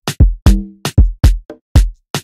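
An Amapiano drum pattern plays kick, snare, conga and percussion in a busy syncopated groove. Loud, punchy low hits alternate with brighter, shorter strikes, and one tonal conga hit rings briefly. No voices are heard.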